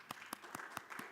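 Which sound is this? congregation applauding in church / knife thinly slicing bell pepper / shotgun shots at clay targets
congregation applauding in church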